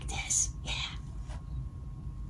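A voice imitates a whispering rabbit with a few breathy, airy whispered bursts, close and fairly soft, then fades to quiet background.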